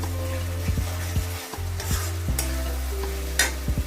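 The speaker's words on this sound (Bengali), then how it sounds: "মশলাটাকে ভালো করে একটু কষিয়ে দেখছেন রংটা পাল্টে আসছে।" Spice masala paste being stir-fried in a pan for Bengali dahi chingri (prawns in curd), with close, repeated spatula scrapes and knocks over a steady sizzle and a low steady hum, no voices.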